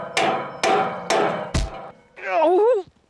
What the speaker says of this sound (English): So you can just really bang on that pipe.